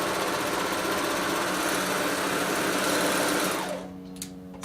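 An overlocker stitches a rolled hem on a garment edge, a loud, steady high-speed mechanical whir running continuously for almost four seconds, then stopping and leaving a quiet room with a few faint clicks.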